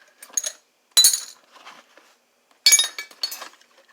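Socket wrenches from a welder's tool bag clink and chink as they are handled, with two sharp metallic bursts of rattling among quieter scattered taps and short silent gaps.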